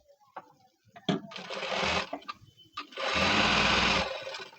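A sewing machine stitches a blouse with double piping, running in two loud sustained bursts with brief clicks and pauses between them, close up and without talk.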